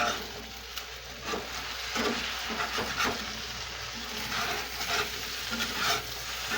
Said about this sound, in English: it scrapes these pans